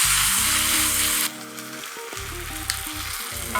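Chicken thighs sizzle loudly in a hot wok during a stir-fry, a bright continuous frying hiss that drops back partway through as the pieces are moved around the pan, with occasional scraping clatter.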